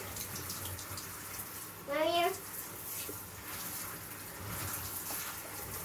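Water runs steadily in a bathtub shower while a big dog named Brutus is bathed, a broad hiss under a child's chatter and adult voices, with a brief louder splash midway.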